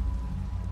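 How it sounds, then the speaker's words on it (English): Rain falling in the Minecraft video game, a steady low hiss and patter that holds evenly through a brief moment with no speech. "Now it's raining."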